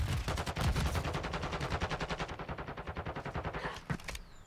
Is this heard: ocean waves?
no